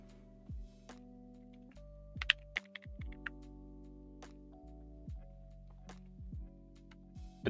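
Typing on a Laneware LW-67 mechanical keyboard, irregular clacky keystrokes close up at a casual pace with a few heavier thunks, no talk.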